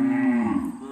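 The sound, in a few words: cows mooing after returning from grazing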